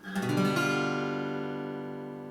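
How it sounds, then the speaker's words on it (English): One guitar chord, a G dominant seventh, is strummed quickly and left to ring, decaying gradually with no talking. "G dominant 7th"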